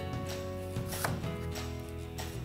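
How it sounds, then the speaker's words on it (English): A knife cuts an onion on a chopping board with a few sharp, close thunks spaced irregularly, over a steady low background hum. "we're just gonna chop this in half and cut it this way"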